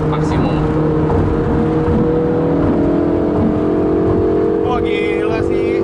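A Ferrari 488 GTB engine in Jakarta accelerating in its maximum-response driving mode, a loud steady whirring drone heard from inside the car, with people talking and reacting over it.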